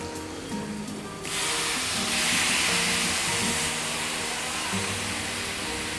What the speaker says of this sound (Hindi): 2 मिनट हाई फ्लेम पर भून लेने के बाद अब हम इसमें पालक ऐड करेंगे।